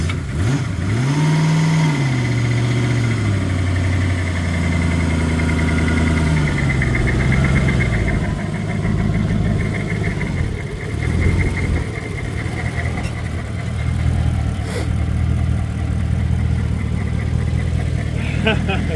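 Turbocharged Mazda RX7 fitted with a Toyota 1UZ V8 engine idling steadily while warming up, a loud continuous rumble with a couple of slow revs, with people talking over it.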